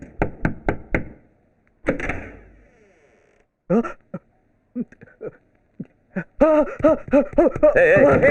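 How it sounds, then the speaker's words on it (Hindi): Knocking on a door in a Hindi action film scene: a quick series of four or five sharp raps, then a clatter, followed by scattered thuds and a voice speaking. "कोई दरवाजा खटखटा है, जाके देख।"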